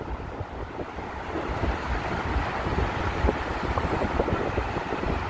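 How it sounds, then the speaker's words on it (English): Strong wind gusting through downtown Chicago streets, a steady loud roar buffeting the microphone with broadband rumble and no break across the whole stretch. "Very, very windy."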